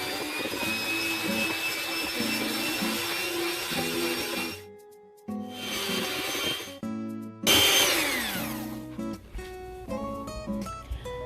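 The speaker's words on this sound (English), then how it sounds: "Put the whisk on the highest setting." Electric mixer whisking a full pint of cream on its highest setting, a steady high-pitched motor whine that cuts out briefly twice and restarts, close and loud with no talk.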